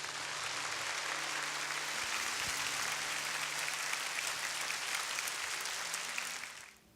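A church congregation applauds to welcome a visiting pastor, a broad, even roar of clapping from a large crowd in a reverberant hall that holds steady, then cuts off near the end.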